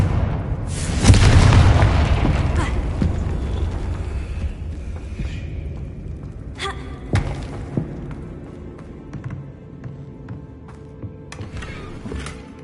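The Confringo spell in Hogwarts Legacy sets off one big, close explosive boom that rumbles and fades, followed by scattered creaks, thuds and sharp pops from the game world.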